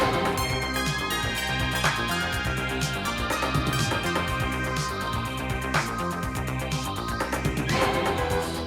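Ending music from the horror video game Silent Hill f, a dense, loud wall of layered instruments and low bass churning steadily like a horror film's intro song, with no speech over it.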